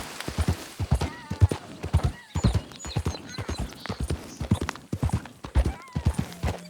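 Video game horse (Red Dead Redemption 2): rhythmic hooves clip-clopping at a steady trot, loud and close, with a brief whinny partway through.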